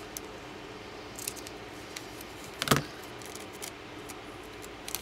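Scissors snip once through a cardboard or plastic package corner in a quiet room, a single brief crisp cut standing alone against faint background noise.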